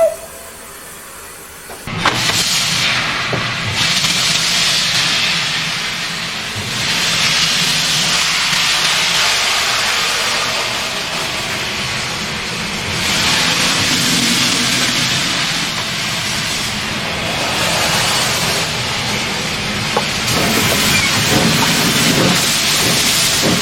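Steam locomotive No 957 Ironclad pulls a train from Keighley toward Oxenhope, loud steady hiss and working engine noise rolling on for many seconds after a sudden start, with surging chuffs and no voices.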